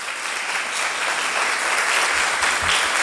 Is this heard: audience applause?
yes